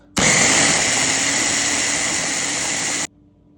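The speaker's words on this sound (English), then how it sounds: "in the blender, we have already started blending up. We're blending peppers, green peppers, orange peppers, jalapenos, tomatoes, as well as onions and some garlic" A blender whirs through green and orange peppers, jalapeños, tomatoes, onions and garlic, a loud steady high-pitched motor roar that starts abruptly and cuts off cleanly after about three seconds.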